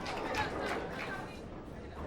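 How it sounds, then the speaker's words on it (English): Murmurs ripple through a crowd at a boys state golf final, a soft, indistinct babble of many voices at a distance, low and continuous through the short stretch. "So you hear the murmurs in the crowd"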